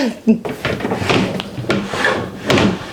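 A wooden furniture drawer rolls out roughly with scraping, rubbing friction in uneven bursts, close by, and a voice is talking at times.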